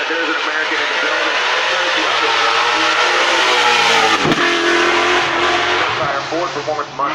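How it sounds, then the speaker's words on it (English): A Ford Performance Mustang drift car at the Goodwood event revs hard with a loud, sustained engine roar. The pitch rises and falls with sharp throttle changes, under crowd and announcer noise. "Ford Performance Mustang."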